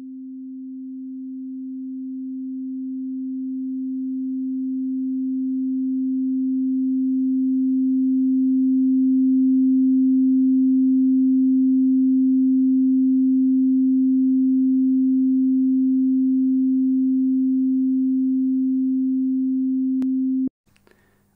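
A Sonic Pi synth note with a long attack and decay envelope: a single pure steady tone that swells slowly over about ten seconds, holds, then cuts off abruptly, alone with no voices.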